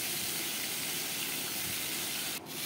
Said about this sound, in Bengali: মাছগুলোকে আমি এভাবে ভেজে নেব।